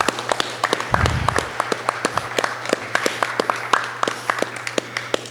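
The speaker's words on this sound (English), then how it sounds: "please give them a round of applause" Steady applause from a conference audience, many hands clapping in a dense, continuous patter that holds for several seconds with no talking.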